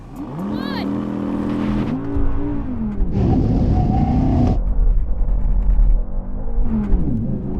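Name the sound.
sports cars accelerating at drag race start, BMW M8, Audi R8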